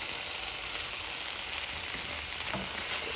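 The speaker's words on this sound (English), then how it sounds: "now we have to do this, like mix it around for 2 minutes until it's like thickened" Ketchup and cornstarch sauce stirred in a hot pan, a loud, steady sizzle and bubbling hiss with scraping of a utensil running throughout, no speech.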